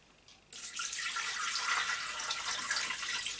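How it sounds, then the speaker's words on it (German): Water runs steadily into a Thermomix mixing bowl, measured out as 250 grams for bread rolls, starting abruptly after a brief quiet moment and continuing as a close, even rushing pour with no talking. "250 Gramm Wasser,"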